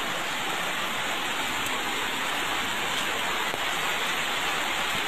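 Steady heavy rain falls in an unbroken, dense hiss of drops on surfaces, close and loud throughout, with no talking.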